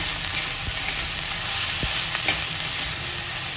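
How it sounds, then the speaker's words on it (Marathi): Coriander and masala sauté in a pan for a paneer mushroom gravy, giving a loud, constant sizzle with occasional sharp crackles and the scrape of stirring close by. "आणि जरा परतून घ्यायचं 5 मिनिटं."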